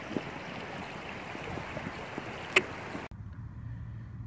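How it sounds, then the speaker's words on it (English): A river flows steadily at an outdoor spot on a fine day, a broad wash of water rushing close by with one brief knock partway through before the sound cuts away to a quiet, low hum. "beautiful day on the river"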